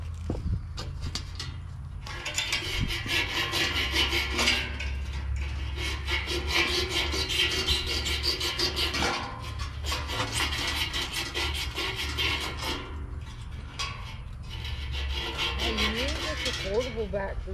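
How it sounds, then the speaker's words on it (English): Sandpaper rubs back and forth in long, steady strokes close by during work on a Goodman condenser fan blade. A low hum runs underneath, and someone speaks briefly toward the end. "I think I got a piece of sandpaper in here"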